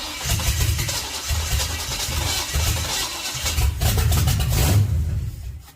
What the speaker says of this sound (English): There it is. It fired up.